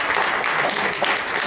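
Dense, sustained clapping fills a hall as an audience applauds at a film talk, heard close and steady for a short burst.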